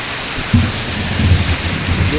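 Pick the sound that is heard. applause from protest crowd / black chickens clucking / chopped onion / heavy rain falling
heavy rain falling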